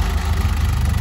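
1995 Toyota HiAce engine idling right after starting, a steady low rumble close by, brief and unbroken.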